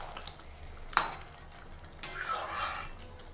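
Chicken pieces being sautéed for a home-cooked curry, with a spatula scraping and clanking against the pan in two sharp strokes over a soft, steady sizzle.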